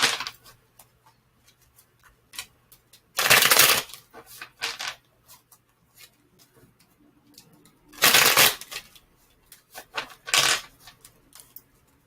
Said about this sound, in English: Let me go ahead and put some of these cards to the side